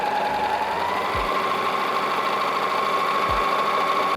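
An overlocker finishes the raw edges of fabric for a trumpet skirt, giving a steady, fast mechanical whirr that runs unbroken and close for several seconds before stopping abruptly.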